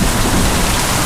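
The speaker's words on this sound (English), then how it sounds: "You can hear, I hope you can hear the thunder." Heavy rain pours steadily during a massive thunderstorm in Naga City, Philippines, a loud, dense roar of drops on surfaces with a low thunder rumble underneath and no voices.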